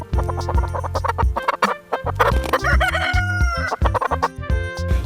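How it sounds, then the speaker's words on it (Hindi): Domestic hens cluck loudly and up close in a busy, uneven stream of short calls, with one bird's drawn-out crowing cry rising above the rest. "ये है हैन। हैन को हिंदी में मुर्गी कहते हैं।"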